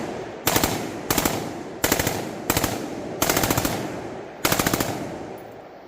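A rifle fires 55 grain full metal jacket rounds at steel targets outdoors at night, six sharp rapid bursts of several shots each separated by short pauses, loud and close with ringing decay.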